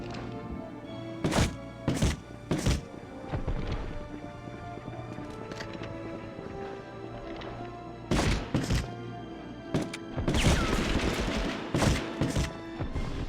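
Stealth pistol shots in Medal of Honor on the PS1: sharp, muffled pops fired in pairs and small clusters, spread across a quiet ambient hum, with a denser burst of noise near the end.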